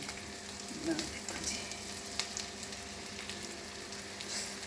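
Masoor dal kababs frying in a pan: a steady, soft sizzle and crackle of oil, with a few light clinks and scrapes as they are turned.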